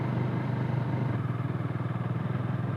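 A Bajaj Dominar 400 motorcycle idles while warming up at night, a steady close low engine thrum with a faint rhythmic pulse and no talking.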